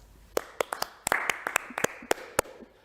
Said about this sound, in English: Another round of applause for all of our sponsors.